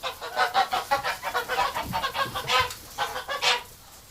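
Geese in a cold winter pen honk and cackle continuously in a dense, rhythmic chorus of overlapping calls, close and loud throughout.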